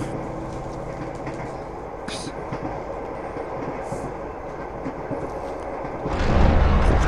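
Steady rumbling rattle of a passenger train wagon riding along the rails, with faint rhythmic wheel clatter and a louder surge of low rumble near the end.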